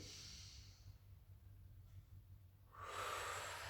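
A breath drawn in during a Pilates neck stretch: near-silence gives way to one close, airy inhale that swells near the end.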